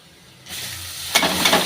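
Soaked moong dal hits a hot pan and a steady hiss rises, then swells into a louder, crackling sizzle that carries on alone.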